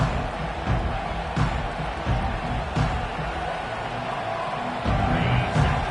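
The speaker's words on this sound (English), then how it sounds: "listen to the roar of this crowd" A stadium crowd roars at a USC versus Virginia Tech college football game, a dense, sustained wash of cheering with small surges throughout.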